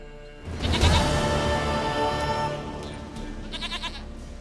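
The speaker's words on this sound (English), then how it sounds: "Goat of mine, dearest," A goat in The Witcher 3: Wild Hunt, set in Velen, gives a loud, wavering bleat up close, followed by quieter game ambience and a few fainter bleats near the end.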